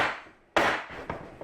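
Tapping of a salmon and leek terrine mould to level the layers: two or three sharp knocks, close and fairly loud, each quickly dying away, with no talk.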